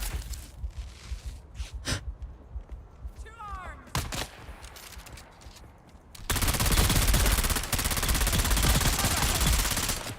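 Weapon fire in Dune: Awakening: a few sharp separate shots and a brief squeal, then a dense, loud, sustained burst of rapid automatic fire filling the second half.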